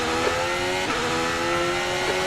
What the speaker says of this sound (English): Take care, there's a car approaching.